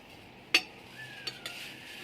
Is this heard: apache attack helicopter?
no